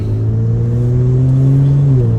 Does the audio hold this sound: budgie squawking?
no